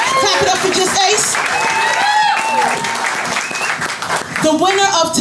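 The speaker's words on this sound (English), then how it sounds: "Clap it up for every poet that was in this poetry slam tonight" An audience at a poetry slam claps for the poets, a full burst of applause mixed with cheers and whoops over a host's voice talking through it, fading briefly near the end before rising again.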